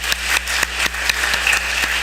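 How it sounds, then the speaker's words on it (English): A church audience at an All Saints' Day Mass applauds the 8th graders, a steady, fairly close round of clapping with a few sharper claps standing out. "can we just give one last round of applause to the 8th graders?"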